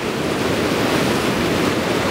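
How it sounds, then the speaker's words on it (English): Ocean waves crashing against coastal rocks at a fishing spot, a loud, continuous rushing wash of surf with some wind noise on the microphone and no voices. "See a bunch of waves coming in, but they're not hitting me"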